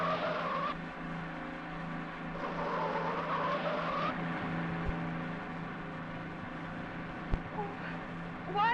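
Car from a 1950 film racing through traffic, its engine droning steadily with tire squeals and skids rising and fading over about nine seconds, with brief thumps and little talk.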